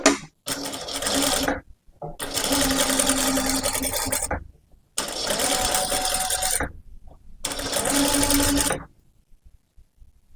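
Electric sewing machine stitching a boat-neck princess-cut blouse, running in four rapid whirring bursts of about two seconds each, separated by short pauses.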